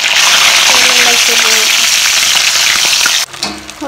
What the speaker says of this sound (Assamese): মাছখিনি ভাজি দি দিলোঁ